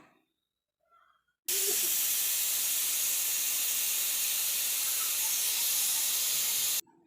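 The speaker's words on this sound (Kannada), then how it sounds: "ಇದನ್ನು ನಾನು ಲಿಟ್ ಕ್ಲೋಸ್ ಮಾಡಿ ಇದನ್ನು ನಾನು ಮೂರು ವಿಷಲ್ ಬರ್ಸ್ಕೊತಾ ಇದ್ದೀನಿ" A pressure cooker cooking ridge gourd masala lets off a loud, sustained hiss of escaping steam that starts abruptly, holds steady for about five seconds, then cuts off, heard alone near the stove.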